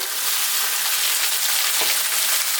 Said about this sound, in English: Next step, we're going to add the potatoes